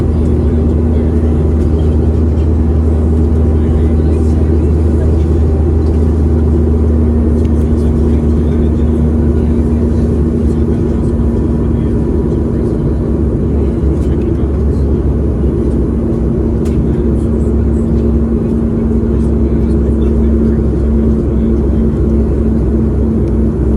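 Steady, loud cabin roar inside a QantasLink Boeing 717 in flight, a deep constant engine and airflow rumble with a faint tonal hum running unbroken throughout.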